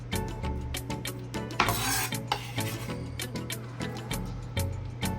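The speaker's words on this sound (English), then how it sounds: "now we're gonna combine all these ingredients together, the veggies and fruits" A spoon stirs chopped veggies and fruit together for a chicken taco topping in a bowl, producing close, repeated scraping and rubbing strokes with light clinks and no talking.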